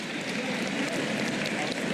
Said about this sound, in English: Round of applause for Dundas.